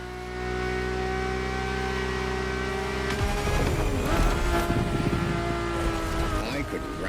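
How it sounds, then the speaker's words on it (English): A Ferrari engine in The Crew Motorfest idles with a steady harmonic hum, then revs and roars with rising and falling pitch sweeps, heard from inside the car, loud and continuous, with no talking. "And the car's voice sounds even better from inside."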